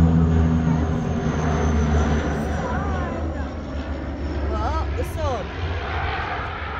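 An airplane passes overhead with a broad, steady engine drone that fills the whole stretch while people talk nearby.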